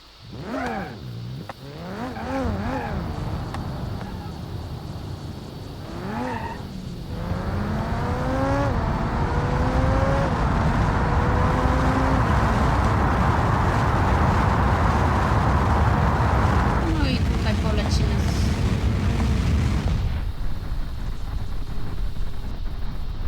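Audi A3 carbon drifting in BeamNG.drive, the engine revving and climbing through gear changes, then holding a long, loud, strained drone before cutting off near the end, with no talk over it.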